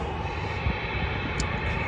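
An airliner at an airport, a Southwest jet just off the runway, gives a steady distant engine roar at a low, even level with no talk.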